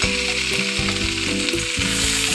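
Chopped tomato and boiled cauliflower stalks fry in a pan with potato and aubergine for a Bengali stalk chorchori, giving a loud, steady sizzle with a few soft stirring knocks and no talk.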